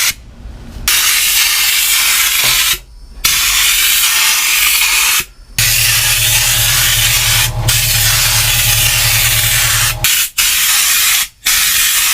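Lizard Skin sound deadener coating being sprayed inside a car, loud close hissing bursts that run for several seconds at a time with short pauses between them, no talking.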